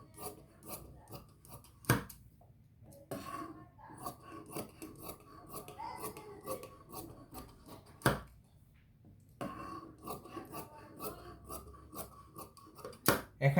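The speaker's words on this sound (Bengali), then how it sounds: "এখানে দেখছেন আমি 3 সাইজের 3টা কাটছি।" Scissors cutting fabric for a child's sewing project, steady snipping and rasping strokes near and clear, with brief pauses between runs of cuts and no talking.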